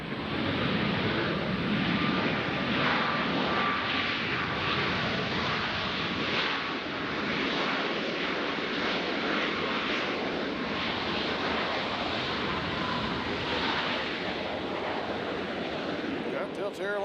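A Delta Airlines airliner arriving from Minneapolis roars on approach to Nashville airport, a loud, sustained broadband jet rumble with wind noise throughout, heard alone without talk.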